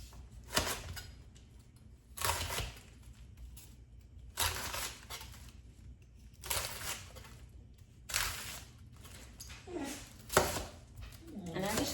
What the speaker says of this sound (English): I'm going to cut my cabbage.